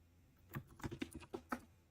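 Keys tapped on a computer keyboard in a short, uneven run of soft clicks, several in quick succession, close and quiet with no voices.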